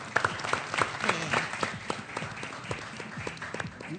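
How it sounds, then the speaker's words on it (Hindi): Applause from an audience for Hiba after the first game of a cricket-themed show, a thin patter of claps with voices talking over it throughout. "तालियां हिबा के लिए।"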